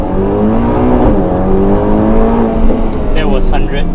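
Ferrari Portofino with a 3.9-litre twin-turbo V8 accelerating hard from a standstill, engine note climbing steadily through the gears, loud and close, with a brief shift dip and faint tyre noise near the end.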